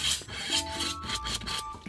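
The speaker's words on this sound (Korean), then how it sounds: "여기에 있는 텅스텐 레일로 먼저 갈리는 소리가" A kitchen knife is drawn through the tungsten rail of a Daiso knife sharpener, producing close, gritty rasping strokes that repeat in a steady back-and-forth rhythm.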